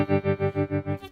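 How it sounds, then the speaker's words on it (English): Electric guitar chord through a fast, choppy tremolo on a Line 6 Helix with a Fawn amp impulse response, pulsing on and off about six times a second, slightly distorted and close. "I have just a straight tremolo, just a pretty choppy tremolo"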